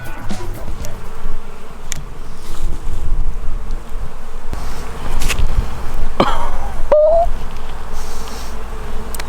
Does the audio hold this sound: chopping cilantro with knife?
no